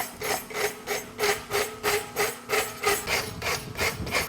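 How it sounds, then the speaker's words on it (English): A rasp files a horseshoe in a blacksmithing setting, with a steady rhythmic scraping of about nine strokes, close and loud, with no talk. "What I'll do is I'll rasp these to where they're even."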